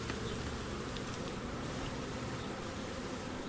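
Honey bees swarm around an open beehive, making a dense, continuous buzzing drone that stays loud and close for the whole stretch with no voices.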